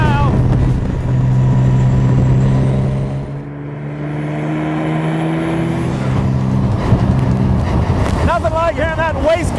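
A 1924 Bentley with a twin turbo engine warming up, its steady loud idle droning with a rising whine and throaty rumble, close by, with some background talk.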